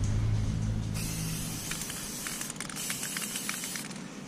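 An aerosol can sprays Candy Orange paint onto an RC car body in a steady, close, loud hiss that starts after about a second of low hum and continues to the end.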